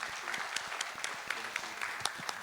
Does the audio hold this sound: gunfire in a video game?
no